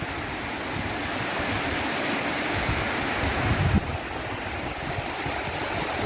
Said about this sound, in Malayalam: ഇത് ആ ഒരു വെള്ളത്തിൻ്റെ ഒരു സൗണ്ട് മാത്രമേ നിങ്ങൾക്ക് ഇവിടെ കേൾക്കാൻ പറ്റുള്ളൂ